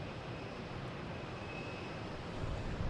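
A jet airplane takes off from Boston Logan Airport as a steady, broad, distant engine roar that swells slightly toward the end.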